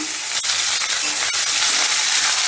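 Chopped onion drops into hot oil tempered with panch phoron, producing a loud, dense, hissing sizzle that fills the whole moment, broken by a couple of sharp knocks, with no speech.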